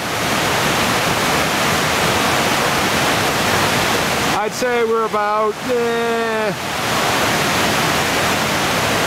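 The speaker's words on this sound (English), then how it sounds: "And there's the waterfall." A North Carolina waterfall heard from roughly fifty yards, a loud steady rushing roar throughout, with someone talking over it briefly in the middle.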